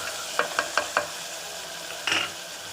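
Tomatoes are sautéed in a pan for chicken biryani: four quick, close spoon knocks on the pan, a pause, then a short scrape over a faint background sizzle.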